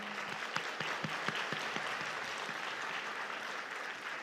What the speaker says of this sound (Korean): 뒤를 돌아 인사하실 때 다시 한번 큰 박수로 축하해 주시기 바랍니다.